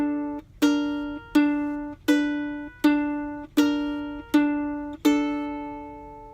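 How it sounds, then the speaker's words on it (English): Guitar chords for a theme alternate with a plucked third-string horn-stab note in between. About eight crisp attacks come in a steady, quick rhythm, each decaying briefly, with no talking. "I could hit the 3rd string again to get that horn stab sound."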